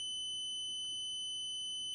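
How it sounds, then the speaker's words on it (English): A multimeter continuity test beeping as its leads touch metal pliers, a single steady high-pitched electronic tone held without break, fairly quiet and alone. "beeping sound, which means that there's a connection or that electricity can flow from point A to point B"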